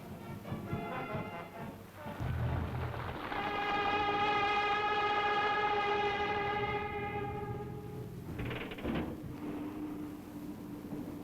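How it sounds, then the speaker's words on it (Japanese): The maiden Tokaido Shinkansen train departs on the new Tokyo–Shin-Osaka line: a long, steady horn blast rings out for several seconds over low rumbling, followed by a brief shorter tone and continued running noise. "処女列車発進。"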